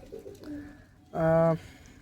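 A racing pigeon in a loft gives a loud, close coo: a short rolling call with two softer calls before it and quiet between them.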